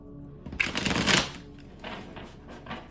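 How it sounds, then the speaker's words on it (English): A deck of tarot cards is shuffled by hand in a quick riffling burst, followed by softer card handling, close and alone. "We're going to give those another shuffle"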